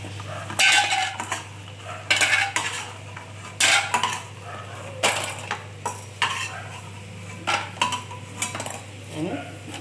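Fried lentil bori being lifted out of a pan with a metal utensil, several loud clanks and scrapes against the pan in irregular bursts over a faint background hum, with no talking.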